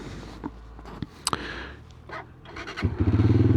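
A Malaguti Spectre 125 GP motorcycle on a ride, with a few scrapes and knocks before its engine rises into a close, loud rhythmic throb at the end.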